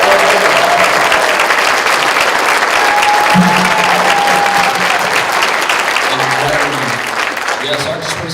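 An audience at a live event applauds loudly and continuously for several seconds, broad steady clapping that eases off toward the end, with some voices mixed in.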